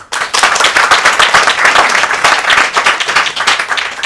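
A crowd of people claps loudly and continuously for about four seconds at a political youth group's press gathering, the dense applause close and steady with no voices over it.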